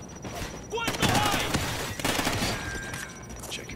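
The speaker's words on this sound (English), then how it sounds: "That weird ass gunshot sound effect they use in cartoon movies." Call of Duty: Ghosts gunfire during the Federation Day mission, a dense burst of rapid shots with echoing crackle over a steady background rumble and a few whistling effects, loud and close with game ambience underneath.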